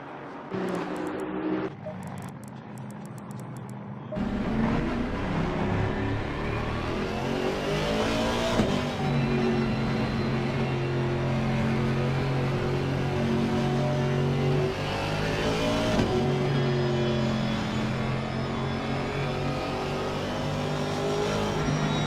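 Race car accelerating away at the green light, a loud, close engine whose pitch climbs through repeated rising gear sweeps, with a brief rough burst of noise at the start.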